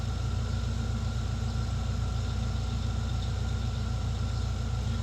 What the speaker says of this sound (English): So that's fast idle.